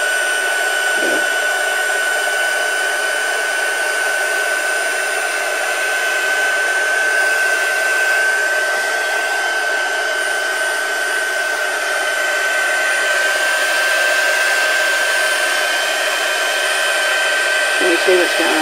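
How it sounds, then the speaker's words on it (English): A heat gun blows continuously at close range over a Christmas present, a loud steady whine and airy roar with an unchanging pitch for the whole stretch. "And then you get your heat gun."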